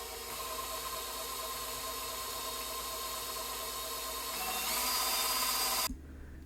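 A repaired KitchenAid Professional 600 stand mixer runs a test after a planetary assembly fix. It gives a steady whirring motor drone that rises slightly before cutting off abruptly, close and with no talk.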